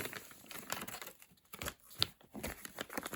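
A thin plastic bag crinkles and rustles in bursts while a toy cat house set is unpacked, close and uneven, with small clicks between handling sounds.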